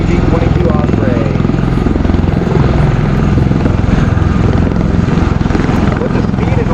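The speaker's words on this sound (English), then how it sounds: "Approaching from the right is the MV-22" An MV-22 Osprey tiltrotor approaches at a military airshow demo at MCAS Cherry Point, its heavy rotor thump pulsing loud and steady throughout, with a voice talking over the noise.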